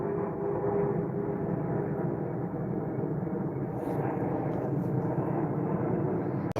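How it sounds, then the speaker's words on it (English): Airplanes flying over a cemetery make a steady, loud, droning engine rumble that fills the whole stretch without a break, with faint rustles near the end. "Besides, these planes flying over."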